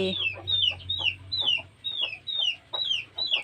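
Chickens cluck repeatedly in a steady, rhythmic pattern, close by, over a faint low hum, in a small vegetable garden.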